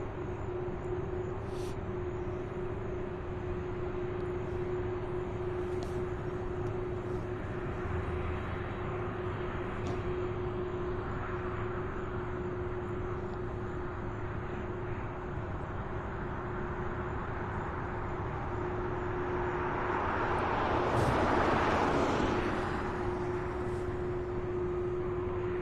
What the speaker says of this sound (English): Next up, an A300 UPS flight 2215 out of Philadelphia. It's our next arrival here on 35 left.